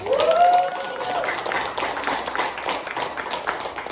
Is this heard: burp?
no